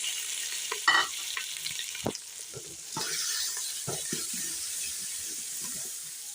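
Steady sizzling of curry spices frying in a pan with ginger and garlic, with scraping stir strokes and a brief louder clatter early on, close up and without speech.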